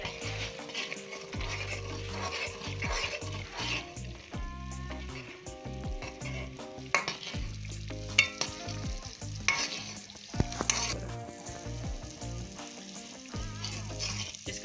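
Butter and a spoonful of flour stirred in a pan as they simmer into desi ghee, with repeated scraping spoon strokes against the pot over a soft sizzle, fairly quiet and rhythmic.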